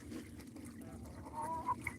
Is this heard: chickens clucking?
yes